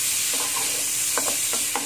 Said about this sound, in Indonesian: di tengah mengaduk bawang bombay